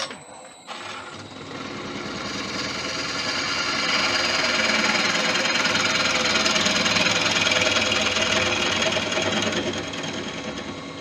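A smaller bowl gouge takes a light finishing cut inside a lathe-turned tiger wood and resin bowl, a steady loud rasping whir that swells and holds for several seconds.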